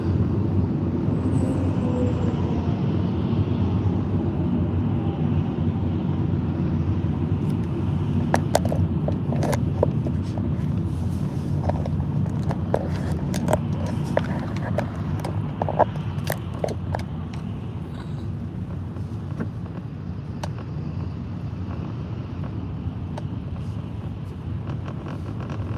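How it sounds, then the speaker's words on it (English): Car driving through Ottawa, heard from inside as a continuous low road rumble and engine drone, with a stretch of faint rattling clicks in the middle. "We're driving through Ottawa."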